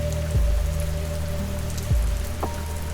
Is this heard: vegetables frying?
no